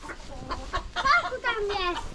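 Chickens cluck and squawk close by, with a rooster's call rising among them in a busy, overlapping farmyard chorus; ducks and geese are also present.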